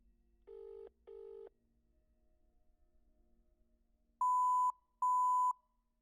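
Electronic beeps from a phone being dialed in the horror game Fear the Spotlight: two short mid-pitched tones, a quiet pause, then two louder, higher sustained beeps, all alone over a faint low hum.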